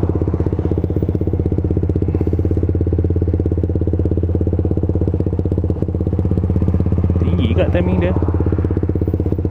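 A motorcycle fitted with a 63.5mm engine block idles loudly and steadily, a rough, even thrum through the whole stretch, with a short clatter near the end and brief talk over it.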